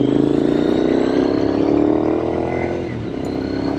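A 2006 Triumph Scrambler 900 carbureted motorcycle engine pulls steadily under load while riding, a close, loud droning hum that rises slightly, then eases off near the end, mixed with wind.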